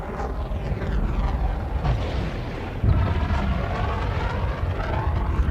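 In Elite Dangerous, the Panther Clipper Mk II gives a distant gunshot-like boom, then a deep, steady boost roar that jumps louder midway and rumbles on without talk.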